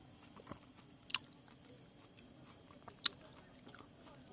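A person eats soft, sweet ripe melon up close, with quiet wet chewing and a few sharp crisp bites and squishes spread across a few seconds, with no talking.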